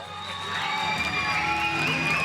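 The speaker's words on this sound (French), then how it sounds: "Tels des stars, Dylan et Eden font leur entrée dans la salle, sous les cris des invités." Guests at a Gitano wedding reception cheer, whoop and shout loudly as the newlyweds enter the hall, forming a dense, continuous crowd roar with high excited cries throughout.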